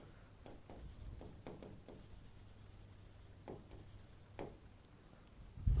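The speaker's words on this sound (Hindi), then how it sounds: "ये मैं यहाँ लिख देती हूँ।" Handwriting strokes scratch softly and intermittently, with a few quicker bursts of scribbling and pauses between them, faint and close in a quiet room, ending with a dull knock.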